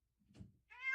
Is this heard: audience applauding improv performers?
no